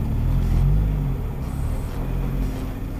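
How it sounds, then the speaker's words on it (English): A car travels down a dark highway at night, its steady engine rumble and road noise loud and continuous, swelling slightly early on before settling as it slows. "As the driver brings his car to a stop"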